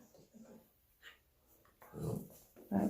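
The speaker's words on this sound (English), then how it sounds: "That's one of Deanna's puppies." Puppy whimpering at a veterinary clinic, soft intermittent whines and snuffly breaths in short bursts, growing louder toward the end, with faint talk nearby.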